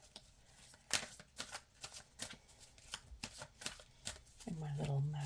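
A deck of tarot cards is shuffled in a run of crisp riffling bursts, close and fairly quiet, ending as a voice starts speaking over it.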